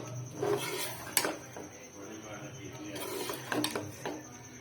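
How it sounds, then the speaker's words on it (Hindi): Chicken biryani being mixed in a pot, with a spoon scraping and clinking against the metal in several sharp knocks and steady stirring scrapes, close and fairly loud, alongside background kitchen noise. "अब इसको करते हैं मिक्स इस तरीके से। देखिए अच्छे तरीके से इसको मिक्स करना है।"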